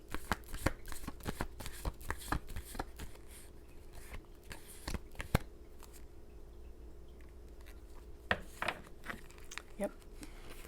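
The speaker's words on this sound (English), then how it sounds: "This is my last time shuffling." A deck of tarot cards being shuffled by hand, giving repeated sharp riffling bursts and soft card slaps at an uneven rhythm, close and fairly quiet, with a short pause in the middle.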